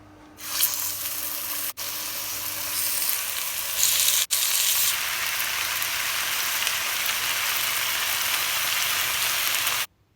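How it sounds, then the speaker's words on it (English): Brown sugar caramelizes in a tablespoon of oil in a hot pan, a loud, steady close-up sizzle that runs on after a sudden start, with brief clicks breaking it up. "I caramelized the sugar, right? Let the sugar melt and all that"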